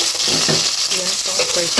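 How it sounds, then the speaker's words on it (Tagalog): Onion and pepper stirred in a hot pan while browning: a loud, dense sizzle with steady scraping strokes of the spoon, close up and continuous. "Haluin na natin hanggang mag-brown."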